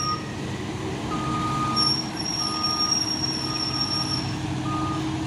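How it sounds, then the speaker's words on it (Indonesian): A heavy Fuso Super Great container trailer truck engine rumbles steadily at close range while intermittent high reversing beeps sound over it. "Masuk lagi truk trailer kontainer Fuso Super Grade."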